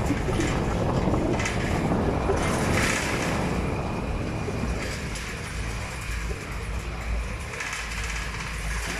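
Strong wind roars steadily into the microphone, a dense, continuous rushing buffet that fills the whole clip without pause.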